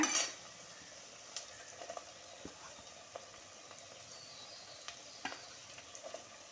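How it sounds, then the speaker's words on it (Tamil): Onion sautéing in a pan with garlic added for a fish curry, a quiet sizzle under scattered clinks and scrapes of a spoon stirring against the pan. "வெங்காயம் வதங்கிட்டு பூண்டு போ பூண்டு சேர்த்துக்கலாங்க"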